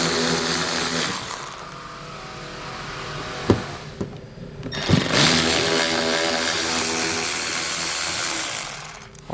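Power tool on a 2020 Chevrolet Equinox driving out T15 Torx fasteners from the wheel well liner, two loud whirring bursts with a short gap and clicks between, close up.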